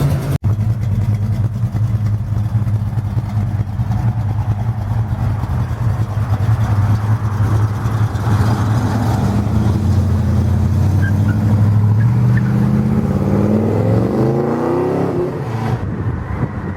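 Classic American cars on a cruise drone loudly and steadily nearby, and one engine revs and rises in pitch toward the end before easing off.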